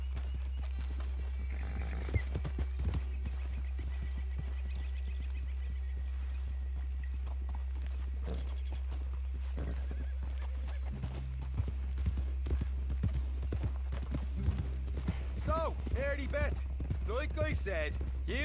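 Horse hooves clip-clop steadily in the Red Dead Redemption 2 video game, a continuous walking rhythm under a low hum, with characters talking over it in the later part.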